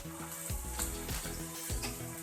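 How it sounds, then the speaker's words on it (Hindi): Onion, green chilies, carrot, capsicum and cabbage with ginger-garlic paste fry in a pan, a soft, steady sizzle with a few low knocks as the vegetables are stirred. "और बंद गोभी डालकर इन सबको फ्राई कर लें।"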